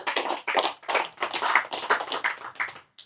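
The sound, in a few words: audience clapping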